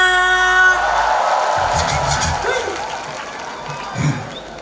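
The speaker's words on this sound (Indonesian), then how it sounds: "Yogyakarta, mana dong tepuk tangannya?" Audience at a live Javanese pop concert in Yogyakarta cheering and applauding, a broad crowd roar that swells after music stops, with scattered whoops rising near the end.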